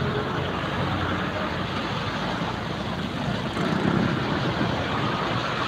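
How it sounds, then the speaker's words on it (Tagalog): Steady broadband rumble of road traffic heard from a motorcycle ride toward Sarimao, Caranan, Pasacao, with engine and passing vehicle noise continuous and loud throughout, no talk. "Maraming sasakyan."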